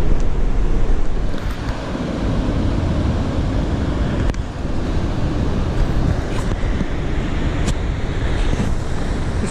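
Ocean surf and wind on an early morning run along the coast, a loud continuous roar of waves mixed with gusty microphone wind noise, with no voices.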